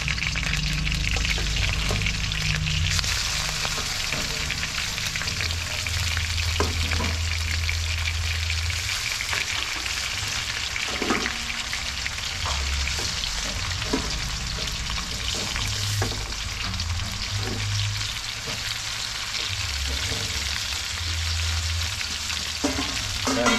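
A second batch of chicken fries in a pan with a continuous, close sizzle, punctuated by occasional stirring scrapes and clinks, plus a low background hum, with no one speaking.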